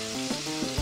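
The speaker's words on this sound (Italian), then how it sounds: "Appena l'olio inizierà a sfrigolare, butto dentro i lupini" Oil sizzles steadily in a frying pan, a continuous close hiss and crackle that lasts throughout with no talk.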